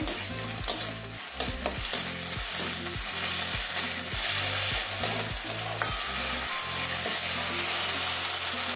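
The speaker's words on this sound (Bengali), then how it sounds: "আদা রসুনটা কাঁচা গন্ধ যাওয়া পর্যন্ত ভেজে নেব।" Ginger and garlic frying in a pan with slit green chillies, a steady hiss of sizzling oil under a regular rhythm of scraping spoon strokes roughly every half second, close and clear with no voices.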